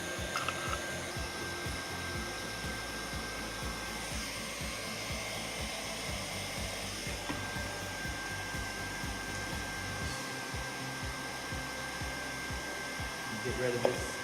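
Steady welding buzz with a dense crackle running on at an even level for the whole stretch, as a bead is laid along an inside corner joint.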